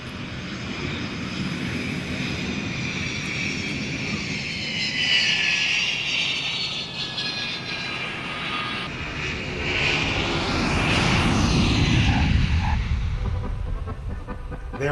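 A passenger airplane lands at the airport in Vilnius, Lithuania, with a loud, steady jet engine roar that swells and recedes over about fifteen seconds, with no talk over it.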